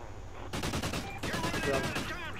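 Video game gunfire in a tactical shooter match sounds as a quick, loud burst of rapid shots, with bright, crackling reports that follow one another closely for about two seconds.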